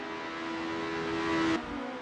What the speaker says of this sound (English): It's a dance of titans, a symphony of engines, and Hugh Jass's tempo is rising.